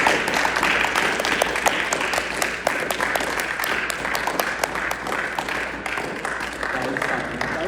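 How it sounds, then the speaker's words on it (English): An audience at a talk gives a steady round of applause, crowded clapping at an even level for several seconds, with some voices mixed in underneath. "Round of applause for Jeremiah and Clara"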